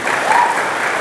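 Steady, dense applause from an audience at a small-business training event around Lake Toba, filling the whole moment at close range without a break.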